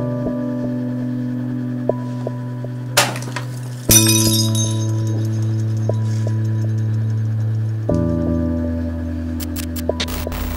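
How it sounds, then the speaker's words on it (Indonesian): Glass cracks and shatters during a paranormal ritual, a couple of sharp glassy hits ringing out over a steady, droning hum that continues throughout. "ditandai gelas pecah saat dilakukan ritual"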